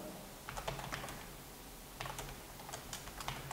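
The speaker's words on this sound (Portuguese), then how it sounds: "E vamos digitar." Keys on a computer keyboard are tapped in quick, light bursts during a live-text titling demo: two clusters of soft clicks separated by a short pause, close and quiet, with no talking.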